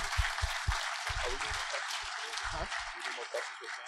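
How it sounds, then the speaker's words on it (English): Applause from the crowd at a live podcast recording in Halifax, Nova Scotia, a soft, steady wash of clapping heard under voices talking nearby. "They deserve a round of applause."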